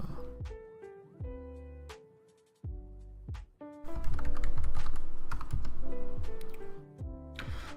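Computer keys are typed close-up in quick irregular bursts of clicks with short pauses, the rattling getting denser and louder toward the end, with no talking.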